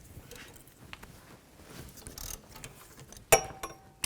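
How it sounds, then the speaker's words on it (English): A ratchet on a 15mm socket loosens wheel hub bolts on a 2013-2015 Chevy Cruze, giving faint, irregular clicking and metallic mechanism noises, then one sharp loud clack near the end. "I need to remove these 4 bolts. These screw into the hub assembly. I'm going to use a 15mm socket."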